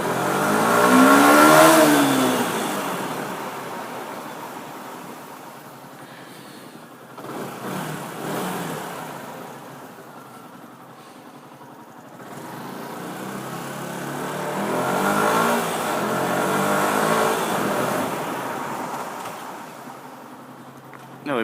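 A Yamaha R125 motorcycle engine revs hard up close, loud rising and falling bursts near the start and again midway, with a steadier idle-like drone between the throttle blips.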